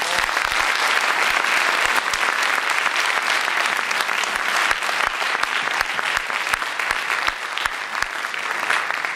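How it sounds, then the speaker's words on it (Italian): Loud, sustained audience applause at a public town meeting, dense clapping from many hands with a few sharp nearby claps standing out, steady throughout without speech. "Un applauso"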